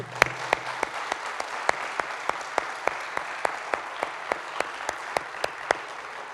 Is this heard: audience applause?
yes